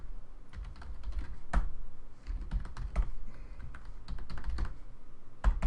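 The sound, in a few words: typing on a computer keyboard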